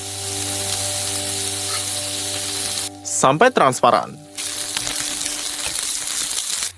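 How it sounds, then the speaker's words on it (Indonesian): Steady oil sizzle from onions frying in olive oil in a pan, loud and close, with a short stretch of speech breaking in partway through. "Goreng bawangnya"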